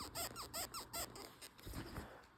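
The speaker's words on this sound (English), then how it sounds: "that heel is separating, and that's on the side that squeaks." An Anderson Bean cowboy boot with a separating heel gives a series of quick, rhythmic leather squeaks up close, fairly faint and repeating several times in a row.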